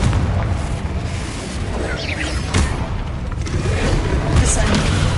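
A Confringo blasting spell goes off in Hogwarts Legacy, a loud sustained booming blast with crackling debris layered over dense game action noise, steady and close throughout.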